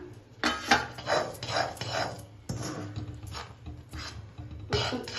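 A spoon scrapes and stirs Mysore pak sugar syrup mixture in a pan, giving repeated rasping strokes with metallic clinks at an uneven rhythm, close and fairly loud.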